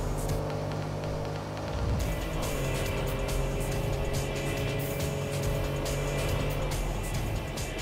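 Race car engine in the video game Tokyo Xtreme Racer 3: a loud, sustained whine that shifts pitch as it accelerates, with a brief dip around a gear change and a faint hiss of tires.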